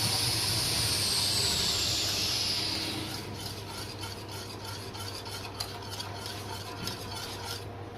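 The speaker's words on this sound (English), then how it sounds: "I use the whisk to make sure I kill all the lumps with this sauce" A whisk stirs white sauce in a pan to smooth out lumps, giving a steady close swishing and scraping with faint metallic ticks, loud at first and then settling into a softer continuous stir.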